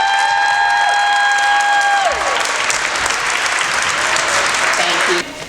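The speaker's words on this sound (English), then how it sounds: "And one more round of applause for all of these students and the amazing work they just did." Applause with some cheering from the audience at a school band and chorus spring concert, sustained clapping under a fading held musical chord that cuts off near the end.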